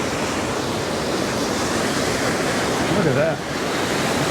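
An Oregon waterfall pours in a constant broadband roar of falling water, close and loud, with a brief spoken remark over it near the end.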